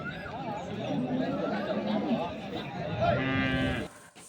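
Jersey cross cattle at a busy cow market in Bagalur near Hosur, lowing loudly in several drawn-out moos over the steady chatter of a crowd and nearby voices.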